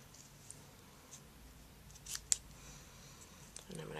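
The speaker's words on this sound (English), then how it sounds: "I'm going to cut myself a nice piece of that." Ribbon scissors snip through a piece of mini striped ribbon in a quiet craft room, giving one short, sharp crisp cut followed by a faint second snip, close and soft, with no talking.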